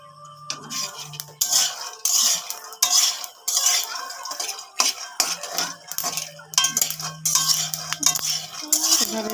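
Peanuts dry-roasting in an empty wok are scraped and stirred with a metal spatula, giving repeated rattling, scratchy strokes and clinks in uneven bursts, close and fairly loud, with a faint sizzle between.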